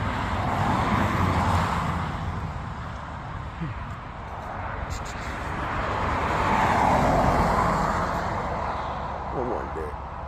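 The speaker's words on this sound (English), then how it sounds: "the cars are loud" Loud cars passing on a road, a continuous roar of traffic that swells and fades as vehicles go by, heard alone without talk.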